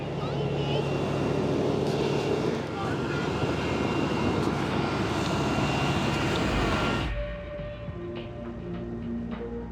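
An airliner taking off from Newark gives a loud, steady broadband engine roar that runs for several seconds and then cuts to a quieter hum with narration over it.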